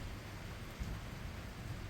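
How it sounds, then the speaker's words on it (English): A rainy nighttime thunderstorm in the countryside fills the scene with a faint, steady wash of rain and a low, distant thunder rumble heard beside an outdoor wood burner fire. "You can hear the thunder"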